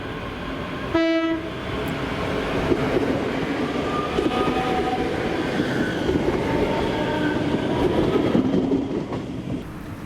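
A ScotRail electric train, unit 385016, passes close by, opening with a short horn blast and followed by a steady loud rumble of wheels and rails for several seconds.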